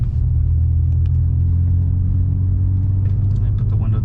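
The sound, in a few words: BMW E46 engine with cherry bomb glasspack exhaust accelerating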